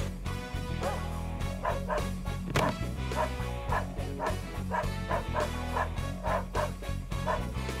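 A dog in the video game Army Men: Sarge's Heroes barks and yips repeatedly in a quick, steady rhythm, close and loud over a droning game soundtrack.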